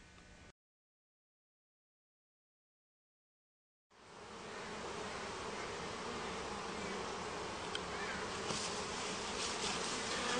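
Honey bees swarm over a hive frame of fresh honey and capped brood, a dense steady buzz that starts after a brief silent gap and holds loud and close for several seconds.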